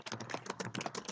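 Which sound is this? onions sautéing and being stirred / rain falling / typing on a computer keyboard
typing on a computer keyboard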